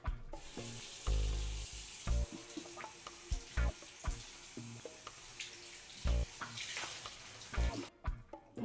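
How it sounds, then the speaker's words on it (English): Water running and dripping off a soaked, not fully wrung towel, irregular splashes and trickles with sharp drops against a steady wet hiss, close and fairly quiet. "I got quite a bit of water left in it. As you can see, the water's still running off of it."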